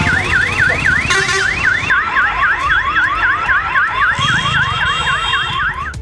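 An alarm at Thanjavur's new bus stand warns people urinating in public, a loud, rapid, warbling electronic tone that repeats continuously and close by, with no talk.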